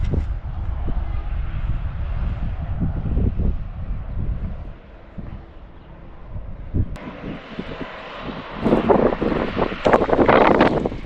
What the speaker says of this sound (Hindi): हवा चल रही है बड़ी तेज़